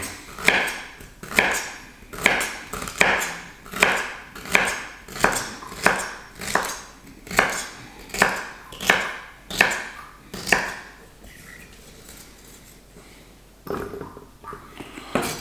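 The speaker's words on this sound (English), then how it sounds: "So chop up some celery." Celery being chopped on a board, a steady series of about a dozen loud, evenly spaced knife thuds close by, pausing briefly before one final chop.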